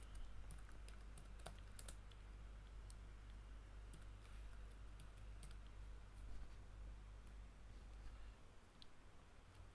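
Keys clatter on a nearby computer keyboard in quick irregular bursts with short pauses, faint over a low steady hum, with no talking.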